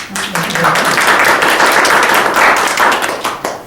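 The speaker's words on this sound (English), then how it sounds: "Give a round of applause." An audience at a talk claps together, loud dense applause that starts almost at once and holds steady for several seconds, close and filling the room.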